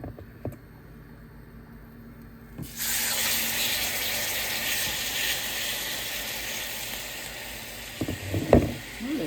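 Pork chops sear on top of the stove, and a loud, steady hissing sizzle starts abruptly after a quiet moment and holds throughout. A few clatters and taps of handling follow near the end.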